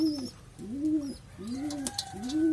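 Pigeons cooing nearby while drinking water, repeated soft rolling coos in a steady rhythm, with light rustling and faint background sounds.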